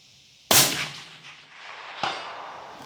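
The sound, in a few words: 264 Win Mag rifle shot at 400 yards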